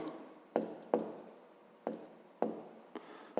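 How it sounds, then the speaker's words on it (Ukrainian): A pen or pencil writes a fraction by hand in a quiet room, as in a fifth-grade math exercise, giving about six short scratching strokes at an uneven rhythm, faint and close. "Записуємо."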